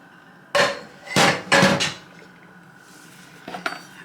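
Scone dough for lemon scones with raisins and cherries being turned out onto a floured mat, heard as a few loud knocking thuds from a bowl and utensil, then quieter clatters near the end.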